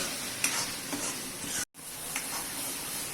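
Drumstick pod curry with a coconut masala sizzles in oil while a spoon stirs it, giving a constant frying hiss with a few soft scrapes and one brief dropout midway.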